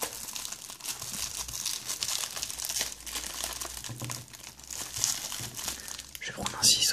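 Crinkling and tearing of plastic wrap while opening the packaging of a Pokémon Neo Destiny card deck, close and continuous, with soft speech alongside.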